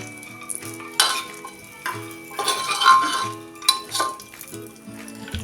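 Raisins, black currants and other dry fruits are stirred as they roast in ghee in a pan. A spoon scrapes and clinks against the metal in irregular strokes over a soft sizzle, close and clear, with no talking.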